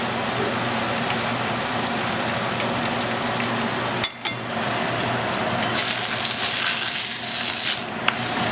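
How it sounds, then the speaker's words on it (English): Homemade masa tortillas frying in a pan, a dense, steady sizzling hiss like rain that runs throughout, close up, with a couple of brief clanks and a short dip partway through. "Now we're just going to fry them"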